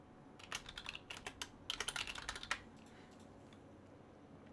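Quick bursts of keystrokes on a computer keyboard as a name is typed into a save dialog in Tabletop Simulator, close and clear for about two seconds, then stopping into quiet room tone.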